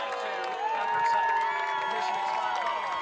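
A high school football crowd in the stands applauds and cheers a player, a broad wash of voices and clapping with whistles or tonal cheering on top, rising slightly mid-clip and holding steady.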